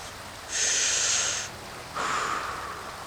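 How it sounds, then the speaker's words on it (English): Two deep, breathy yoga breaths are heard close and alone, a long airy inhale followed after a short pause by a rushing exhale. "Now, deep breath."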